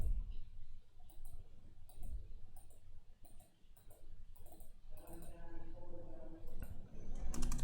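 Fast clicking of a computer keyboard, with short bursts of keystrokes in an irregular rhythm, quiet and close, with no talking.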